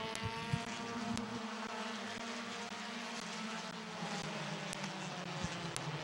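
Compact division race cars circle a dirt speedway at green flag, a steady droning engine roar with faint passing whines and occasional sharp clicks, heard from a distance without talk.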